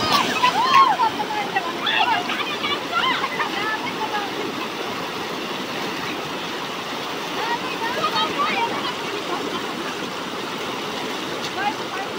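A Nepali river flowing strongly, a continuous rushing roar of water close by, with voices talking over it at times.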